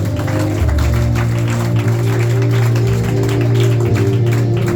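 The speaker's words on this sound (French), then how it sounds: "Acclame d'abord pour toi-même là où tu es." A church congregation applauds, with brisk, continuous clapping layered over sustained, loud keyboard or organ music that keeps playing throughout.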